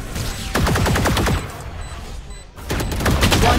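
Rapid gunfire from a first-person shooter video game, loud and continuous in overlapping bursts, with a brief drop before the shooting resumes.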